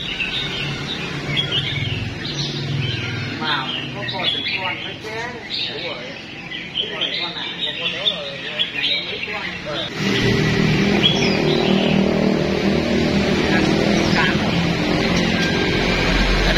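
Birds chirping and tweeting in a pet bird shop, many overlapping calls in a busy cacophony over steady traffic and motorbike noise, loud and close.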